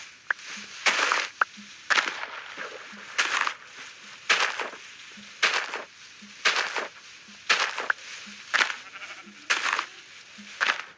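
Repeated short bleats from sheep in the video game Minecraft, roughly every second, each a bright burst over a quiet background with faint low thumps between.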